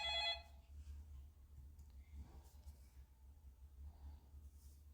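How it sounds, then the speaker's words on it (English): A telephone rings with a single short, bright electronic trill right at the start, then fades to a quiet room with faint low hum and small clicks. "The phone is ringing."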